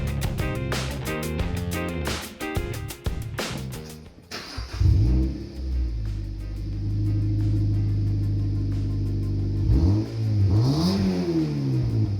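A car engine with its exhaust removed sputters and idles roughly, then revs loudly and raspy with no muffling, settling into a heavy rumbling idle before another rev.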